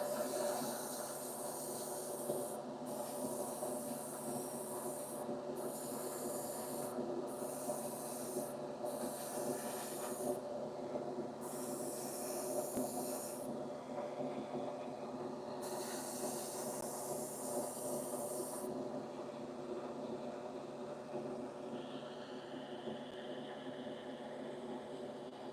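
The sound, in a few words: airbrush spraying urethane paint on Corvair interior parts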